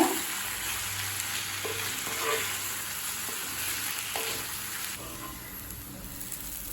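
Potatoes roast with spices in a pan, sizzling and frying steadily throughout, with occasional stirring scrapes, close and moderately quiet with no voices.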